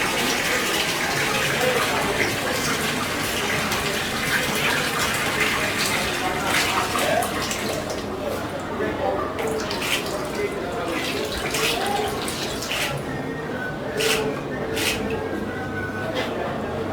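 Tap water runs steadily while food is washed in a series of three rinses before a chlorine soak, a constant close splashing wash with a few brief drips, under talk.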